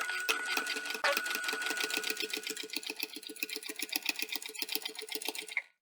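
Domestic sewing machine running a steady run of fast, even stitches for a bag project, with a short pause near the start and a clean stop at the end; close, moderately loud, no talking.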